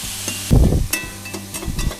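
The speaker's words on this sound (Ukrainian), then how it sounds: "Відправляємо цибульку. Підсмажуємо до золотистого кольору" Onions crackle and sizzle in oil in a pan as they are stirred, with a louder burst of frying partway through and scraping clatter.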